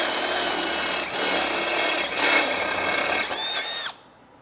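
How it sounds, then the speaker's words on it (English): A Harbor Freight step bit bores through a metal tube in a shop, giving a harsh, grinding whir for several seconds that ends in a brief rising squeal before it cuts off. "that's exactly where I got to drill my hole"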